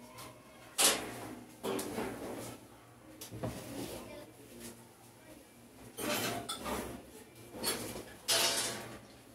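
Clinking of dishes and pans as a dish goes into the oven to gratinate in a home kitchen, several sharp clanks and knocks spaced out, with someone talking in between.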